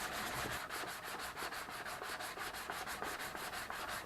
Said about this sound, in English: When I'm sanding with Jello,